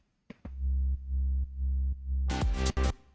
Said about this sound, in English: I think the MS-20 sub is just a sine wave with some